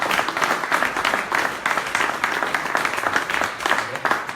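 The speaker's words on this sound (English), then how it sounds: "Another big applause for our ERINDA." An audience at a tech meetup applauds, dense continuous clapping from many hands filling the room, loud and close with no pauses.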